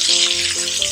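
Butter hissing and sizzling in a hot pan beside a porterhouse steak, a bright continuous frying crackle heard up close and loud through one second, no voices.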